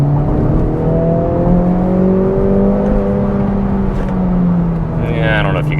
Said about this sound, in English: they have programmed in a little burble tune only in Sport Plus or in the individual with it turned all the way up